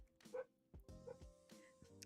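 A neighbor's dog barks a few times in the distance, faint, muffled yips over a quiet background with low game sounds.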